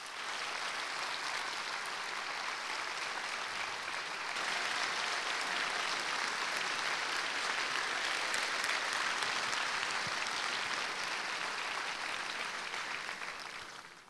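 A large hall audience at a tribute evening gives warm, sustained applause for Ennio Morricone. The dense clapping swells slightly midway and fades at the end.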